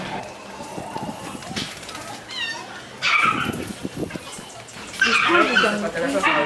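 Puppies in shelter kennels barking, yipping and whimpering, some calls high and thin, with louder bursts of yapping near the end over a noisy indoor background.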